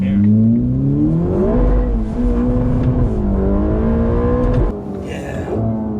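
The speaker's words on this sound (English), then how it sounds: "I mean, you get wheel spin" Ferrari Roma in race mode accelerating hard with wheel spin, engine note climbing loudly through rising revs with a shift and brief tire squeal, heard from inside the car.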